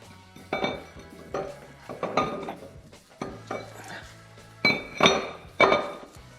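A BMW E30 325i flywheel being slid into place during transmission and engine reinstallation, giving sharp metallic clinks and clunks in several distinct bursts, close and fairly loud.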